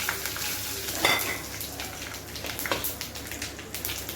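Whole cumin, mustard seeds and curry leaves sizzle and crackle in hot oil in a pan, a steady close frying hiss with a few sharper pops and a brief stirring clink.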